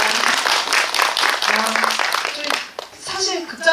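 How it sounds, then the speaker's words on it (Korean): A packed cinema audience at a film screening Q&A gives loud, steady applause, with a voice speaking over it and clapping fading near the end. "큰 박수 부탁드리겠습니다"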